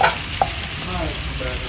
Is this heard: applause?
no